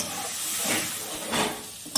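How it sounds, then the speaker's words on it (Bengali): Spice paste with slit green chillies is frying in a pan with a splash of water for lau chingri, giving a close, steady sizzle with two louder hissing swells as it is stirred. "অল্প জল দিয়ে মশলাটা ভালো করে কষিয়ে নিব।"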